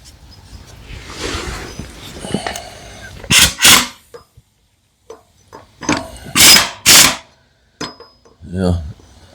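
A ratchet snugs down a new sprocket during a belt-to-chain conversion on a 1999 Harley-Davidson Sportster, giving loud, close bursts of metallic clicking between quieter handling noises and a brief low voice.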